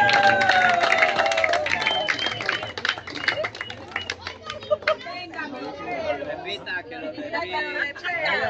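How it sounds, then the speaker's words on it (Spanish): An audience claps in a lively burst of applause with crowd chatter and children's voices around it, loud at first and then fading into scattered claps and talk. "Ese aplauso bonito"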